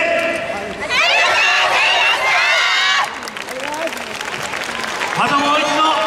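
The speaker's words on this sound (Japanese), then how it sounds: "たくさんの喝采をしてくれたお客様に感謝を込めて" Audience clapping and cheering at a Yosakoi dance performance, a loud dense burst of applause with shouts, easing and rising again while voices talk over it.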